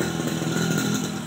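A worn, leaking Viar three-wheeler engine runs with a steady, rough, tractor-like chug, loud and continuous throughout with no talking.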